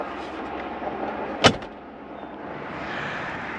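A 1994 Cadillac Eldorado fuel door releasing at the press of its interior button gives a single sharp click or pop, heard once in the middle over steady background hiss, with no voices.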